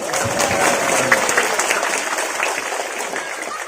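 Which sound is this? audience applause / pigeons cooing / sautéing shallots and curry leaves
audience applause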